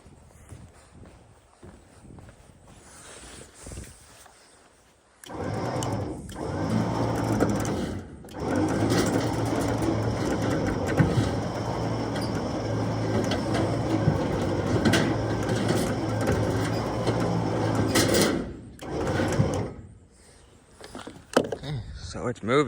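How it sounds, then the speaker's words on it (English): A winch dragging a heavy load forward on a cable makes a steady rattling, clattering mechanical grind that starts abruptly, runs for about thirteen seconds and then stops, with a voice heard around it. "Go ahead and winch it forward and see what happens."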